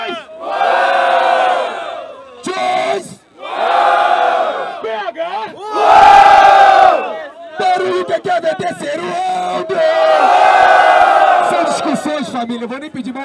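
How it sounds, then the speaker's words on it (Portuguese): A crowd at the Batalha do Tanque freestyle rap battle in Brazil roars in loud repeated bursts of cheering and chanting, rising and falling in waves close by. "Barulho, MC Choice!"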